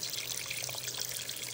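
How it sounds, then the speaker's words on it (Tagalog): Water is poured from a tap or container into a cooking pot holding pork ribs and belly being prepared for lechon kawali, a steady close splashing and gurgling rush that runs unbroken throughout with no talk. "lagyan na po natin ng tubig kasi ilalagay na natin siya sa"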